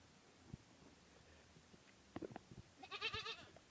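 A mother goat in a forest bleats once, close by, after a few scattered rustles and thumps, with no one speaking.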